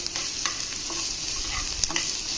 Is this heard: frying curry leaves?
yes